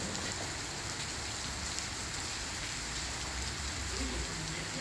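Heavy rain pours onto a flooded street, a steady, dense hiss of falling water that stays constant throughout, with no voices.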